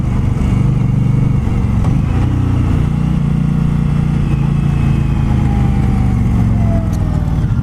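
A 2020 Indian Scout motorcycle engine drones steadily and loudly while riding, a constant low rumble with wind noise and slight pitch shifts.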